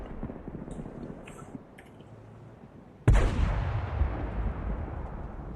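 A single loud tank cannon shot from World of Tanks booms out midway through a WGLNA 2016 playoff match, rising sharply from quieter game ambience and trailing off in a long, rumbling decay.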